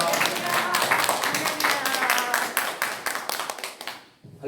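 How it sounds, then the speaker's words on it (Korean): A church congregation claps loudly together to welcome a missionary onto the stage at a worship service, a dense rhythmic burst of many hands with voices mixed in, fading out near the end. "우리 장 선교사님 나오실 때에 힘차게 박수로 할렐루야로 맞이해 주시길 바랍니다."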